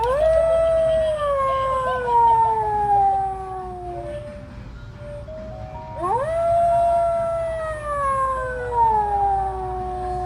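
A Halloween animatronic wolf prop on a store shelf gives two long, clear howls, each rising sharply and then sliding slowly down, with a short pause between them over faint background hum.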